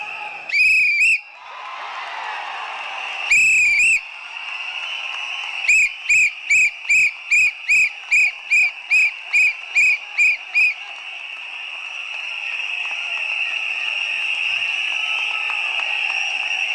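Shrill whistles from a crowd at a Tamil political rally: two long blasts, then a quick run of about a dozen short rhythmic toots, over a constant roaring crowd that grows louder toward the end.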